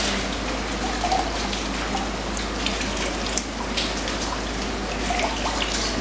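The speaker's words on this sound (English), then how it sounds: "You squeeze out the water." Water squeezed and dripping out of wet fabric during batik dyeing, a steady close splattering and trickling like rain on a surface, continuous and fairly loud with no talk.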